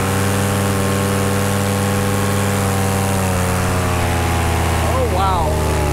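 A small engine with a float bowl carburetor runs steadily at high throttle, a loud continuous buzzing drone close by that rises briefly in pitch near the end.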